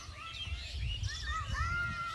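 Several birds chirp and twitter in short rising and falling calls over a low rumble of wind or background noise.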